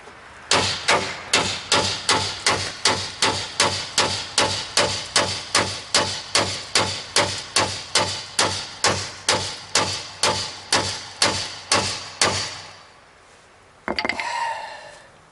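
Steady, evenly spaced hammer blows on a stuck bolt in a Chevrolet Silverado spring shackle, about thirty sharp metallic strikes close by, then a pause and a short scraping clatter.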